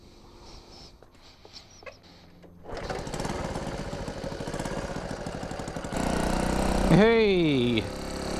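A 1973 Honda C90 motorcycle engine on a ride: quiet clicks and fiddling first, then the small engine starts and runs with a buzzing putter, revving up with rising and falling pitch, close and fairly loud.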